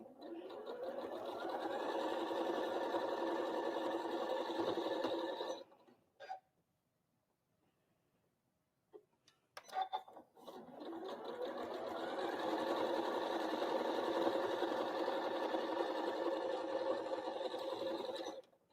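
Domestic sewing machine stitching down quilt block seams for a Christmas Star block, running steadily for about five seconds, pausing with a few small clicks, then whirring again at an even pace for several more seconds.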